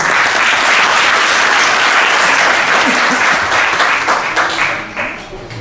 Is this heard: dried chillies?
no